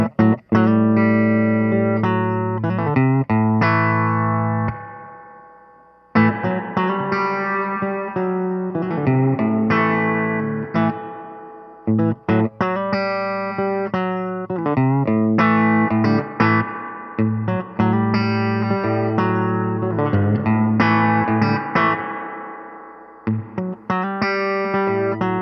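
An electric guitar plays sustained chords through a True Spring Reverb pedal, with an expression pedal sweeping the reverb send so the splashy spring tail swells and fades between strums; no voices.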